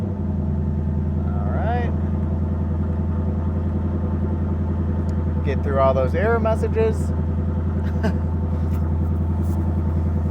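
2024 Ford Mustang GT V8 idling after startup, a deep steady low rumble throughout, with someone talking briefly over it.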